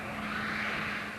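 An AMC Gremlin showroom stock race car with a 6-cylinder engine roars past at a national championship race, a steady, sustained engine drone at a distance with no pause.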